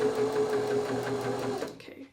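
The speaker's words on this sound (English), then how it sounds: "I'm simply manoeuvring the fabric so that it sews where I want it" A domestic sewing machine stitches fabric in a straight line, running steadily with a fast, even needle rhythm for about a second and a half before stopping abruptly, leaving a faint quiet tail; close and moderately loud, with no voices.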